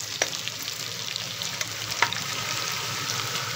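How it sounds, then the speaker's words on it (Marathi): Two slit green chilies sauté in a pan for paneer pulao, making a continuous, moderate sizzle close by, with a few sharp clicks from stirring that stand out over the steady frying hiss. "ह्या 2 उभ्या चिरलेल्या हिरव्या मिरच्या तरी आपण छान असं परतून घेऊ."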